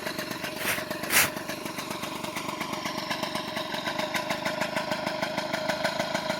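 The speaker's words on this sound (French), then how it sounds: "revoici mon 103 Racing 1987 terminé, en train de tourner avec un beau bruit" A restored 1987 103 Racing two-stroke moped engine runs steadily at idle with a buzzy, rattling putter, close by, with a brief louder blip near the start.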